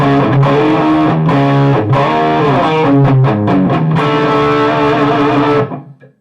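A distorted electric guitar plays chords and sustained notes through an Egnater Rebel 20 amp, loud and dry with no added echo, ringing out to silence at the end.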